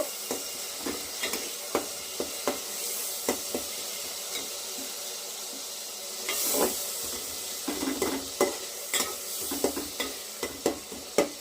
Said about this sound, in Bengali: আমি ভালো করে মশলাটা কষিয়ে নেব